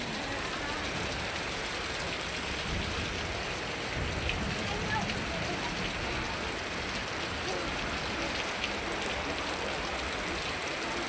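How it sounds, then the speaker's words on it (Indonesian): Steady rain pours down on a village in the afternoon, a dense, even hiss of drops on surfaces that stays constant throughout without pause. "Sore-sore diguyur hujan."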